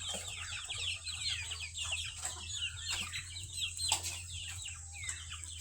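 Young chicks on a farm peep and cluck, a busy chorus of chirps and soft clucks close by, continuous over a low steady hum.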